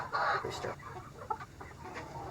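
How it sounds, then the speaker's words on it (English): A Silkie rooster clucks quietly in a few short, soft bursts at close range over low background noise, with faint voices around it. "I believe that's a rooster."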